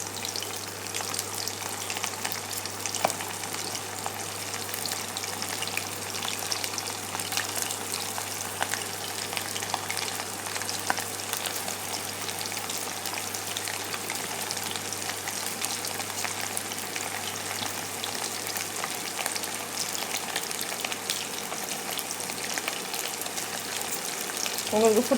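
Chicken pieces fry in hot oil for chilli chicken, giving a steady close sizzle and crackle that runs without a break, with occasional faint voice in the background.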